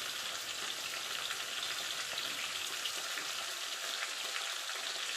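Chopped onion frying in a pan for a mutton curry, giving a steady, even hiss of sizzling oil that holds at a moderate level throughout with no voices.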